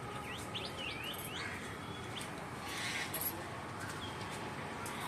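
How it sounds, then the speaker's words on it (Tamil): A black drongo gives short, quick whistled chirps and sliding call notes early on, then fainter calls, outdoors in a tree amid steady background noise. "கரிச்சாங்குருவி"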